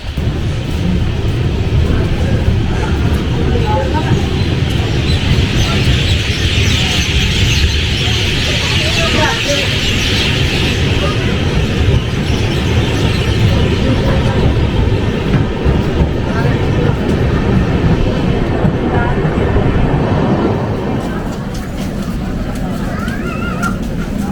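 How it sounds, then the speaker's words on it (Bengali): Ispat Express train (12871) pulling out of Jhargram station after a two-minute halt, a steady loud rumble of rolling wagons with faint rail clatter throughout, easing slightly near the end, with birds chirping in the background. "ঝাড়গ্রাম থেকে ট্রেন ছাড়ছে"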